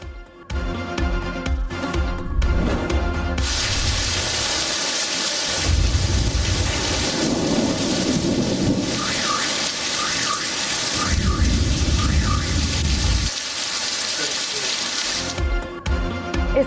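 Heavy rain pours steadily in a storm over Lahore, a dense, continuous roar of downpour with rumbling low swells like distant thunder, loud and without voices.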